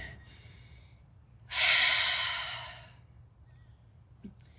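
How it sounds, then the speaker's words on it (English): A slow exhalation through the mouth during a yoga morning meditation, heard alone as one soft, sustained breath that rises quickly and fades over about a second and a half, with faint room noise before and after. "Breathing in through the nose, out through the mouth, just slowly releasing."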